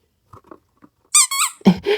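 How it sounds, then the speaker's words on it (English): A small spiked, light-up toy ball gives a few soft taps, then sharp, high rubbery squeaks in quick succession, close and loud against silence. "They have the tactile pokey spikes here, and then they also squeak."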